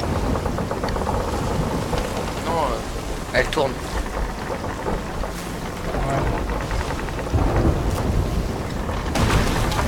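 A stormy sea in Sea of Thieves, with steady rain and rumbling thunder over creaking ship noise for the whole stretch and a louder swell near the end, while people talk over it.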